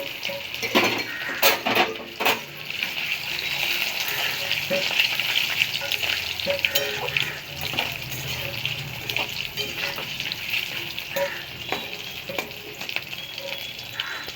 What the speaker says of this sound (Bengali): তেলের মধ্যে দিয়ে একটু ভাজা মতো করে নেব।